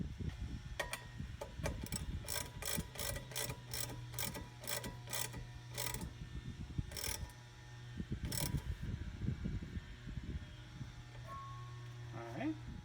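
Ratchet wrench tightening a threaded fitting into a Mr Gasket vacuum brake canister, a run of quick clicking strokes in bursts, fairly close and moderately quiet, with a low steady hum beneath.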